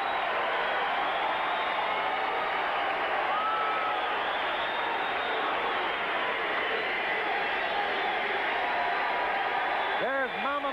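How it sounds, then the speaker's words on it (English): A steady, distant roar from a boxing crowd of about 3,000 partisan fans in Warren, Ohio, cheering Ray Boom Boom Mancini, filling the arena evenly with no break. "Crowd acknowledging Ray Boom Boom Mancini."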